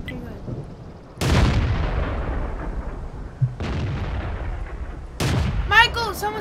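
Three heavy tank cannon shots from World of Tanks boom out in sequence, each a sharp loud blast trailing into a long rumbling decay, with faint voices and game sounds between them.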